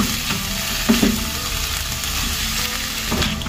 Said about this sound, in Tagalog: Igisa muna natin ito bago natin ihalo sa gulay.